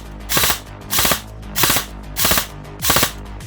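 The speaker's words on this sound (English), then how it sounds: "and right now it's on burst fire." VFC MP5 airsoft gun with a high-torque motor firing on burst, five evenly spaced loud rattling bursts, each a quick cluster of mechanical clacks, close and alone.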